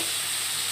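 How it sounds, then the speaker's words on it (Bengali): Shrimp fry in a pan with a steady, dense sizzle that stays loud and close throughout and has no voices over it. "দেখুন চিংড়ি মাছটা ভেজে নেবো ভালো করে।"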